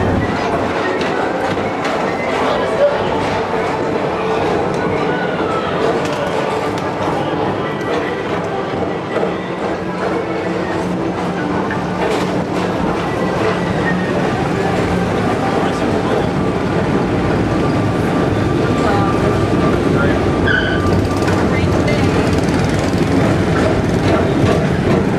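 Tomorrowland Transit Authority PeopleMover ride vehicle gliding along its track at Walt Disney World, a steady low rumble with faint clicking and rattles, continuous and close, under a recorded announcer's voice.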